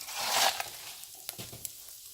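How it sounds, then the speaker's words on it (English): Spices fry off in a hot pan as the base of a potato and capsicum curry, a soft close sizzle fading quickly with a few light clicks of stirring. "you just want to fry that off so that it just heats those spices basically"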